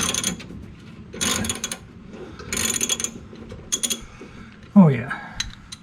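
Ratchet wrench with a 14 millimeter socket unscrewing a part on a 1966 Ford Mustang, several bursts of close clicking ratcheting separated by short pauses, ending in a louder clunk as it breaks loose.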